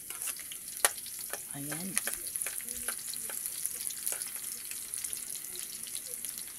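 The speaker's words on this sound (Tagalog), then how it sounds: "Haluin ko na yung sibuyas sa bawang." Onion and garlic frying in a pan while being stirred, a soft steady sizzle with scattered clinks and scrapes of the utensil, and a brief spoken word partway through.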